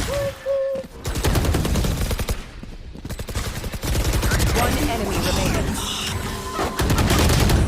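Rapid bursts of gunfire from the Valorant video game crackle close and loud in repeated volleys, broken by short gaps and game effects, while a player shouts in the background.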